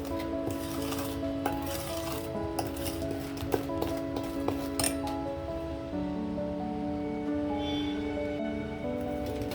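A spoon stirring thick cake batter with dry fruits in a bowl, steady scraping with repeated light clinks against the bowl's side, close and continuous.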